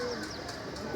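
Pigeons coo softly in a loft with a steady low background and no talk over them.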